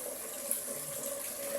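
Tap water runs steadily into a pot of rice being washed in a barracks kitchen, a continuous moderate hiss with no talk over it.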